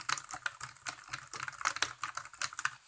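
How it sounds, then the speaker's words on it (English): Fingers typing steadily on a Bluetooth keyboard paired with a Nexus 7 tablet, a quick, even patter of light plastic key clicks that is close and clear, with no voices. "And start typing away."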